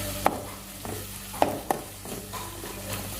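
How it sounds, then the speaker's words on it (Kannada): Green chili paste goes into chicken frying in a pan: a soft sizzle runs underneath while a spoon stirs and scrapes, making a few sharp clinks spaced irregularly, with no voices. "ಈಗ ಇದು ಹಾಕೊಳ್ಳೋಣ ಹಸಿ ಖಾರ ನೋಡ್ರಿ"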